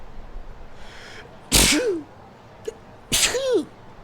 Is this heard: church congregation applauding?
no